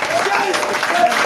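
A church congregation applauds in a short burst, a dense wash of clapping from a crowd, with faint voices mixed in.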